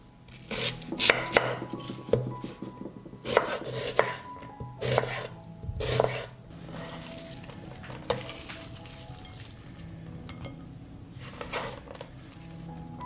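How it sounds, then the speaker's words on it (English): A kitchen knife chops one onion on a board, with loud, irregular, close chopping strokes in clusters, then quieter scraping and handling. "I will cut 1 onion."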